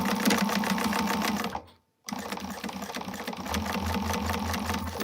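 A sewing machine runs steadily, stitching a bag's exterior to its lining at the seam allowance. It whirs loud and close, stops briefly, then resumes with a low rhythmic pulse underneath. No one speaks.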